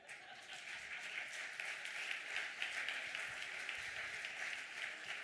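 Sustained applause from an audience at a cultural heritage conference, a steady dense wash of clapping that holds at an even level throughout, with no speech over it.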